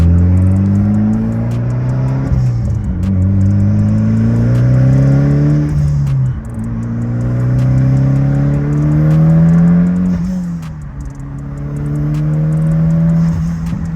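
A Mitsubishi Evo X with a repaired fuel system drives and accelerates, its engine note climbing through repeated gear pulls with brief dips between shifts, loud and close from inside the car.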